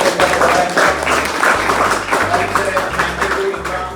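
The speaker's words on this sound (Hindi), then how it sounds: "तालियों के साथ स्वागत" A room of people claps in welcome for a student who ranked AIR 92 in SSC Stenographer Grade C, a steady wash of applause running the full stretch over low background hum.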